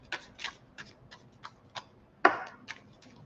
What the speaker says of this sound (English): Oracle of the Radiant Sun, I'll give that a shuffle